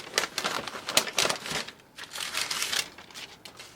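Paper towels are crumpled and crinkled near at hand in a run of irregular rustling bursts that ease briefly in the middle before picking up again.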